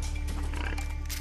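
Wild boars grunt and snort in the jungle of the video game Far Cry 3, low animal calls over a steady ambient game soundscape with a constant low hum.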